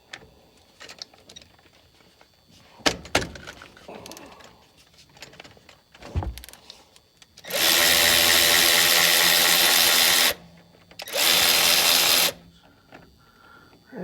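A power tool works on the brake bolts of a 2005 Nissan Titan in two loud, sustained whirring bursts, the first about three seconds and the second shorter, preceded by scattered metallic clanks and handling noise.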